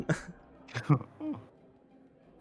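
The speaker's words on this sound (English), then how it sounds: "I'm coughing a little bit." A few short throaty coughs, close and fairly quiet, spaced out over a couple of seconds with no talking.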